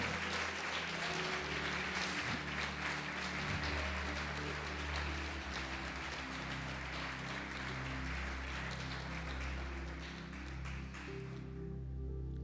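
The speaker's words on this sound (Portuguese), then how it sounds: "Pode aplaudir o Senhor Jesus e glorificar" A church congregation applauding, a dense, continuous patter of clapping over a low sustained musical drone, lasting the whole stretch before tapering slightly.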